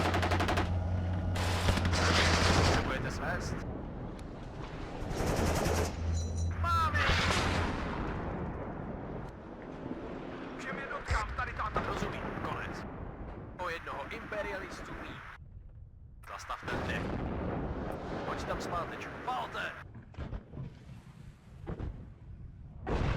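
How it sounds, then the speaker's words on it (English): Artillery and heavy gunfire in the Cold War strategy game WARNO, repeated loud booms and rattling bursts across the scene, with someone talking over much of it. "Oh no, artillery."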